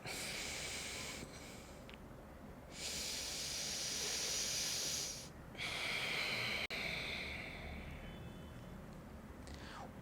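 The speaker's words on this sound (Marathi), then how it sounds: "उजव्या नागपुडीने श्वास घ्यायचा उजव्या नागपुडीने श्वास सोडायचा" Slow, deliberate breathing in and out through the right nostril, airy nasal hissing in long alternating breaths, close and quiet with no talk.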